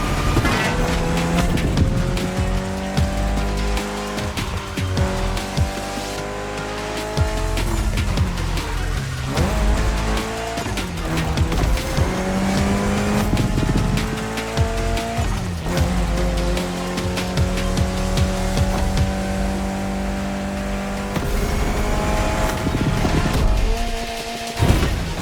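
Car race in The Crew Motorfest during a Made in Japan event with a Toyota Supra, engines roaring and revving continuously, with tire squeals and gear changes over driving music.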